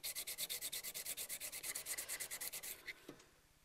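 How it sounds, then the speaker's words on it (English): Metal hand-sanded clean before soldering a champlevé piece, about two dozen quick rhythmic rubbing strokes, close and clear, ending with a couple of slower strokes and a light knock. "So we're going to sand it."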